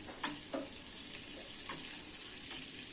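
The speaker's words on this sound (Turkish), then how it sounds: "Tavamın içerisinde bir yemek kaşığı tereyağı ve bir yemek kaşığı sıvı yağ aldım. Güzelce eritiyorum." A tablespoon of butter and a tablespoon of oil melt in a frying pan with a faint, steady sizzle and a few soft pops near the start, with no talking.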